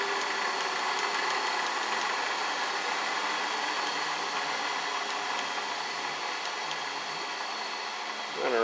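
A milling machine motor winds down to a very low speed, a steady faint hum and whir with no talk, picking up slightly at the very end.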